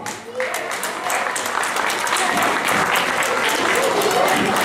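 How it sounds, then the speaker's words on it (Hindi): Hearty applause from the crowd at an Ambedkar Jayanti gathering greets an honoured guest, a thick, loud wash of clapping that swells after the first moment and holds steady, with a few voices mixed faintly underneath. "कृपया जोरदार तालियों से अभिवादन करेंगे।"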